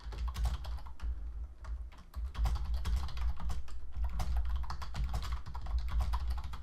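Steady typing on a computer keyboard, a continuous patter of close key clicks with brief pauses, heard alone without any talk.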